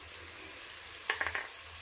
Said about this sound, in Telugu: ఇప్పుడు వీటిని వేయించుకుందామండి. పచ్చి స్మెల్ పోయేంత వరకు.